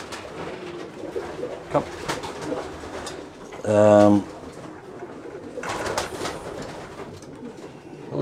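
Racing pigeons in an Irish loft coo in soft, low, repeated calls. One clear, louder coo sequence stands out midway, with loft noise around it and someone talking nearby.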